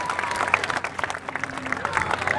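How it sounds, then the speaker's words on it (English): Spectators clap after an alligator wrestling show, scattered, uneven applause from a modest outdoor crowd with some voices and calls mixed in. "Give him a nice big round of applause."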